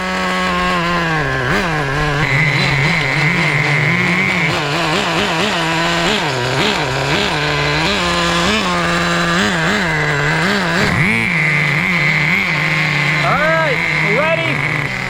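A Traxxas JATO 3.3 nitro RC car engine buzzes and revs loudly and steadily, its pitch rising and falling through repeated throttle blips with no pauses.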